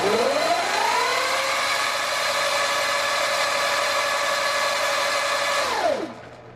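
Electric motorcycle motor driven by a KO Moto controller, whining loud and steady up to maximum RPM. The pitch climbs quickly, holds high for several seconds, then falls sharply as the throttle is released and it spins down.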